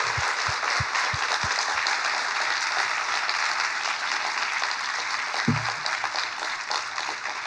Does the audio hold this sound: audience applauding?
yes